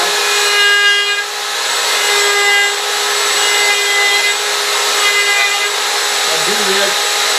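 A power tool runs steadily while cutting a chamfer on wooden boards, giving a loud continuous whine with a high, sustained tone throughout and a brief shift in pitch near the end.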